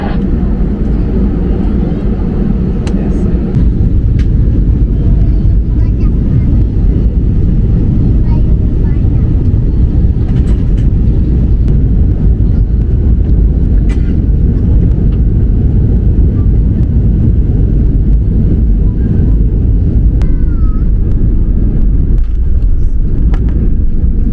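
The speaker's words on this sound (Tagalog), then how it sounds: "Having crew be seated for takeoff." Airliner cabin during takeoff: a loud, steady roar of jet engines and rushing air fills the whole stretch, with faint clicks and rattles from the cabin.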